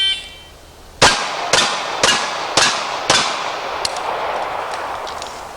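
Five sharp, loud pistol shots fired in quick succession during a timed shooting drill at a range, roughly half a second apart, each with a short ringing decay, followed by quieter trailing clatter.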